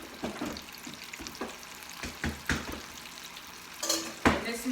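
Vegan calamari fries in a pan with a soft, crackling sizzle broken by repeated spatula scrapes and light clatters of the pan, a few louder splattering bursts toward the end.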